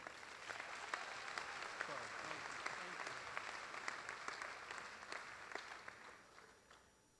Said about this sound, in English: Let's give a big round of applause to Senator Doug Overby